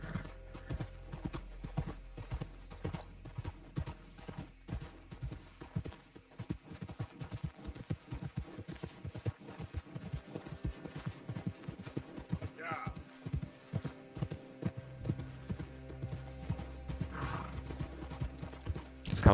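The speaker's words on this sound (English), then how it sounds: "Esse cavalo corre bem." Horse hooves clip-clopping at a fast, steady gallop along a limed road in a Wild West video game, with occasional whinnies over background game music; someone speaks at times.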